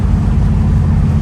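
A 1969 Chevelle's engine idles close by in a deep, steady rumble, loud and continuous for a brief moment with no voices.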